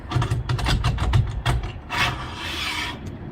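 A rod holder slides into a track mount on a boat trolling bar, giving a run of close scraping, rasping strokes followed by a longer sliding rub, loud and with no voice over it.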